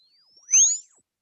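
A distorted synthesized tone sweeps upward alone for about half a second, with bright high harmonics gliding alongside and a brief low dip beneath, loud and clean against silence.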